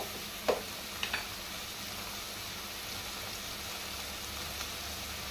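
Chopped medium tomatoes hitting a hot pan for a Konkani-style chicken sukkha, with a couple of sharp clatters early, then a steady soft sizzle continuing alone in a home kitchen.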